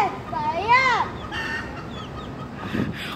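Chickens cluck and squawk nearby in short, uneven calls over a quiet outdoor background.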